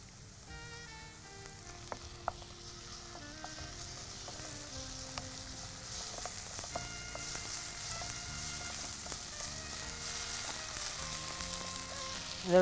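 A soft, continuous sizzle of onions sautéing in a pan, with a few light clinks of a utensil and no talking.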